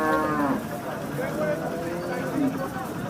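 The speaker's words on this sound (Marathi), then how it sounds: "त्रिवेणी जातीची गाय आहे" A Triveni breed cow moos twice, a long low call near the start and another shortly after, at a busy cattle market in Sangola, with crowd noise around it.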